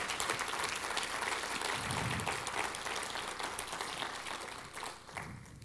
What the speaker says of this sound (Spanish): Da un aplauso al Señor si tú estás conmigo en esto.